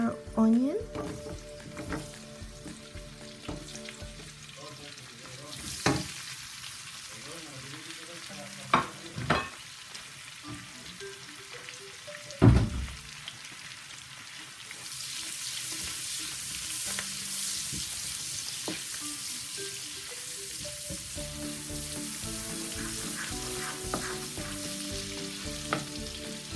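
Onion frying in a pan, a soft continuous sizzle with occasional scrapes and knocks as it is stirred, the sizzle growing brighter toward the end.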